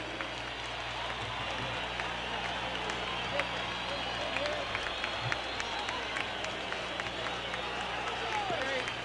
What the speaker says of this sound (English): They're standing and cheering.